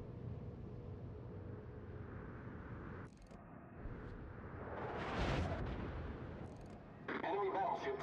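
A battleship in World of Warships fires a full gun salvo, a deep booming blast that swells and rumbles for a few seconds, with faint talk in the background.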